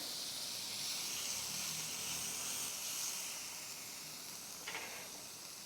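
Tomato and egg filling sizzles in a hot pan, a steady broad frying hiss that holds at an even level throughout, with a brief sharper crackle near the end and no voices.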